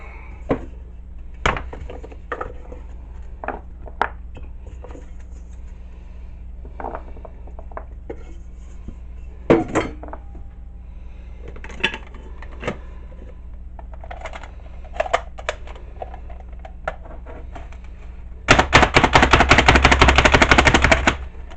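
A knife on a cutting board chops carrots, with scattered knocks and taps early on, then a fast, loud burst of rapid chopping near the end.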